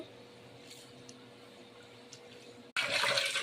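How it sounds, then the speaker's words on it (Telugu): Quiet room hum, then water abruptly gushes loudly from a tap as boiled Maggi noodles are rinsed under cold running water. "ఈ మ్యాగీని హీట్ వాటర్ని సపరేట్ చేసి కోల్డ్ వాటర్లో వాష్ చేయాలి"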